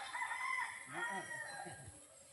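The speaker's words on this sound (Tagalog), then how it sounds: "Ano ni barog sa manok ni Boss Pedro guys ha?" A rooster crows once at close range in a rural farmyard in the Philippines, a clear rising-and-falling call over quiet background with faint outdoor ambience.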